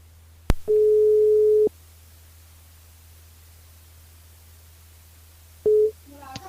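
A telephone rings out during a radio show call to a listener: a sharp click, then one long steady ring tone lasting about a second, a silent gap over faint hum, and a second ring starting before it cuts off.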